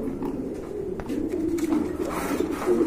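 A pair of caged pigeons, a bold yellow male and a female, coo in soft, repeated low throaty phrases, close and steady with no talking.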